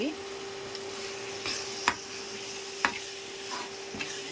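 Prawns frying with chilli powder, coriander powder and homemade garam masala in a pan, a soft steady sizzle with a few sharp clicks of a spoon against the pan, a faint hum running underneath.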